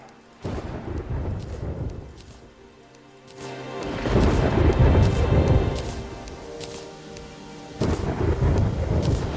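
Heavy rain pours steadily while deep rumbles of thunder roll in and swell, a stormy downpour rising and falling over several seconds without speech, the Toxic Downpour rainstorm in Terraria with the Calamity mod.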